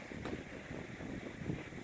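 An electric fan blows air across a microfiber cloth holding cleaned model train gears, giving a steady, breathy whoosh at close range with no talk.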